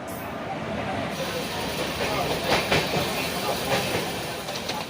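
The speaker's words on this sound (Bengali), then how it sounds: "ট্রেন প্রায় ঠিকঠাক সময়ে এসেছিল" The Dhauli Express passenger train rumbles along the rails with a steady roar and faint rhythmic clacks, loud and continuous throughout.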